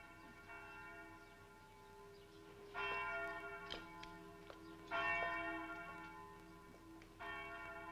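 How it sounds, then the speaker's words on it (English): A large bell tolls at the Palace of Justice in Venice in a film scene, with several slow, resonant strikes ringing out over a quiet background. "The bell of the Palace of Justice?"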